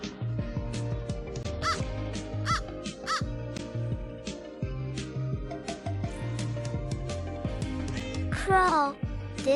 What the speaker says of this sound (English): Crow. This is a crow.